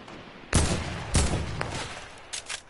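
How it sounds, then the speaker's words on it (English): Sharp bursts of enemy gunfire in a shooter video game, two loud close shots early followed by a fainter trailing crackle and a couple of quieter pops near the end, with no talking. "He's shooting at me."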